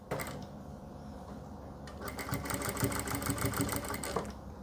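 A sewing machine stitches lace onto a salwar, a quiet, fast mechanical chatter that starts after a couple of seconds of near silence and runs steadily to the end.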